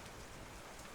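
Steady rain falls in a dense, even patter with no breaks, a soft wash of drops hitting surfaces close by at low volume.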